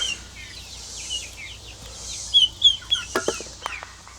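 Chickens cluck in bursts over a steady low hum on a homestead, several birds calling near and far, louder squawks clustered toward the end.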